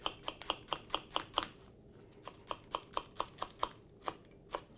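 A knife slicing through a chilli on a board, a quick run of crisp, evenly spaced chops, then a brief pause before the regular cutting rhythm resumes, close and fairly quiet with no talking.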